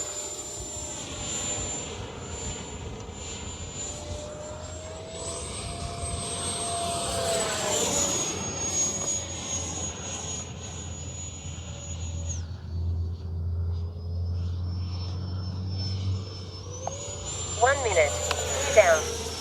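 An FMS Viper 70mm electric ducted-fan RC jet flies overhead with a steady whining roar that rises and falls in pitch as it passes, heard from a distance outdoors.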